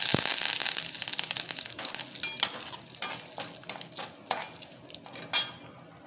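Curry leaves drop into hot oil, giving a brief crackle followed by scattered sharp clinks and stirring scrapes from a pot and spoon, close by and fairly loud.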